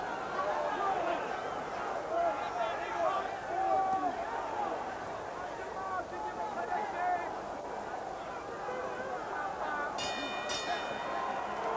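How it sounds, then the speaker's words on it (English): A boxing bell rings to end the round during a bout, a brief metallic clang near the end, faint under arena crowd noise and a commentator talking throughout. "that bell hasn't come a moment too soon for Stackhouse"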